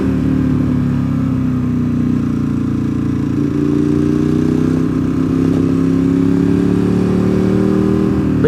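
A motorcycle cruises along Old 64, a winding back road, at about 30 miles an hour; the engine drones steadily and loudly up close with wind rush, its pitch rising gently, and no one speaks.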